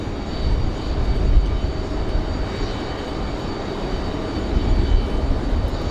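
A Lufthansa airliner arrives and taxis toward the gate at Raleigh-Durham International, a steady, moderately loud engine rumble that swells slightly now and then, heard from outside with no speech.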